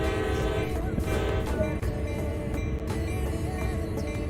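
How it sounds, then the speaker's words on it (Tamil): Locomotive horn sounding in a steady, sustained harmonic tone over a low rumble of rail machinery, near and fairly loud. "We're about to move, so make 2 blasts of the horn to alert anyone around."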